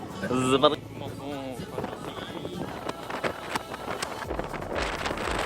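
Gusting wind buffets the microphone with a rough, rushing roar in New York City, while a voice talks intermittently in French through the noise.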